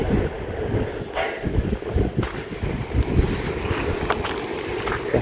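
Strong wind blows across a construction site at a view tower, a constant loud rumbling buffet on the microphone with gusting swells and faint rattling beneath.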